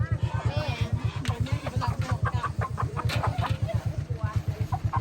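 Live chickens for sale cluck in quick repeated bursts close by at a roadside market in Thailand, amid the chatter and bustle of a busy crowd with people talking.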